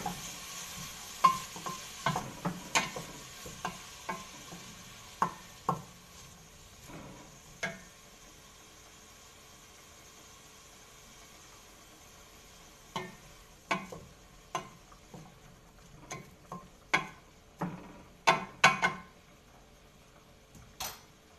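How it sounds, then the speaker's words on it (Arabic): Onion fries in a pan and is stirred now and then, with soft sizzling underneath. Bursts of scraping and tapping from the spoon arrive in two active stretches, separated by a quieter pause of gentle frying. "هنا مرة مرة كان حرك في هاد البصلة حتى تتشحن مزيان"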